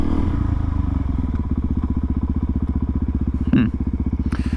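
A supermoto motorcycle on the street puts out a loud, close, rapid thumping single-cylinder engine beat, steady and rhythmic, with a brief clank partway through.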